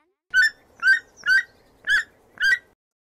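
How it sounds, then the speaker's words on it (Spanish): A toucan call in a jungle animal sound lesson for children: five evenly spaced harsh, bright croaking notes, each short and clear, alone with no talk. "el tucán"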